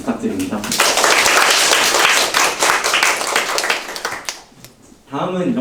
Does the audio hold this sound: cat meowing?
no